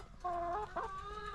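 Farm hens cluck and call close by in a couple of short vocal bursts over faint outdoor background noise.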